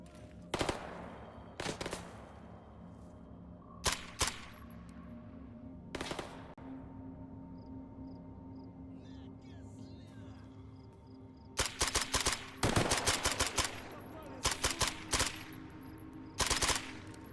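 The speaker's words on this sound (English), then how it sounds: "I think that's the shotgun." Video game gunfire, including a shotgun, in sharp separate blasts early on, then clustered rapid volleys later, loud against a quiet background.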